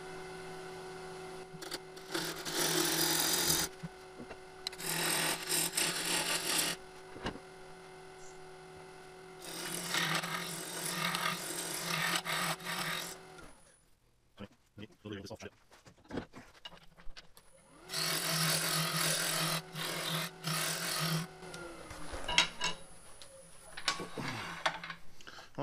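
Wooden tenon being hand-shaped with a rasp or file: several bursts of steady scraping strokes separated by pauses, with clattering handling noises in between and no talk.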